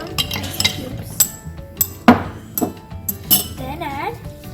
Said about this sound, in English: Then after adding some water, add some ice cubes.